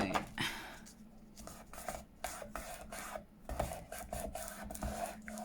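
Glued paper is rubbed flat by hand during papercraft, a series of soft, scratchy rubbing strokes repeating in quick, uneven rhythm at close range.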